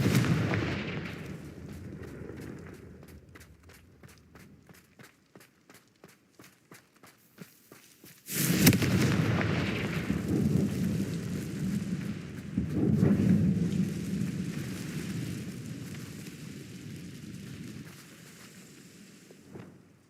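In the game Hogwarts Legacy, a run of quick, regular tapping steps gives way to a sudden loud blast from the Confringo fire spell, followed by a rumbling tail and a second heavy burst a few seconds later.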